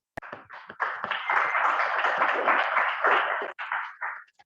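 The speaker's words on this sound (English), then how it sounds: "Please give a huge round of applause for Toastmaster Nisha for taking up task" A small group at a Toastmasters club meeting applauds the Toastmaster of the day, a brief burst of close, bright hand clapping that builds quickly, holds steady, then breaks off into a few final claps.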